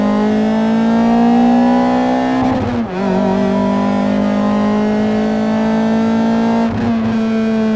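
A loud Honda car engine pulls hard from inside the cabin, its steady rising whine climbing through the revs and dipping briefly at two gear shifts, with no speech.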